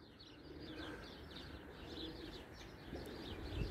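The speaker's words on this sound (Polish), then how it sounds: "Jest, są gołębie." Racing pigeons returning from a training flight and settling at the loft, with soft repeated cooing and faint wing flutters over a quiet outdoor background, low in level and without talk.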